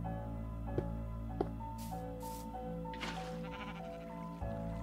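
A sheep bleating in the video game Minecraft, its wavering tonal bleats repeating over a few seconds, with a couple of brief clicks and thuds and a steady hum beneath, no talk.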